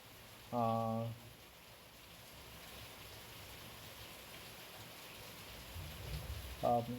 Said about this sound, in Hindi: बहुत बारिश हो रही है बाहर, सो प्लीज़ थोड़ा इग्नोर कीजिए वो साउंड को